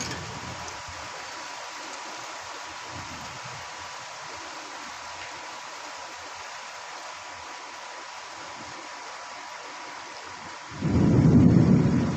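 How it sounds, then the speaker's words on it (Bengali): Heavy rain falls as a steady, even hiss for most of the stretch, then a loud low thunder rumble swells near the end, close by and with no talking. "আর বৃষ্টি জোরে চলে আসছে"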